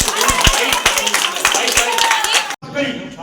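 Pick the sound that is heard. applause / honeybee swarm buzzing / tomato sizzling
applause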